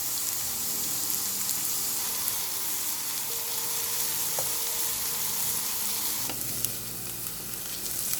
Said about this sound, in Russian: Разогреваю сковороду, вливаю в нее пару столовых ложек растительного масла и буду обжаривать лук.